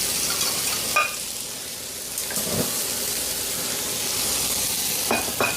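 Food heats in a pan for nacho cheese, a continuous close sizzle and crackle with a few sharp clinks of a utensil scattered through it.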